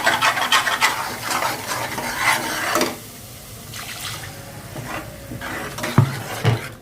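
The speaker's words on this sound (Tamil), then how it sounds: "இதையும் சேர்த்து நல்லா வதக்கிடுவோம்." Ground paste gets stirred and sautéed into mutton kola urundai kulambu, a wet sizzling and scraping with clattering stirring strokes for the first few seconds, then quieter bubbling and a couple of sharp knocks near the end.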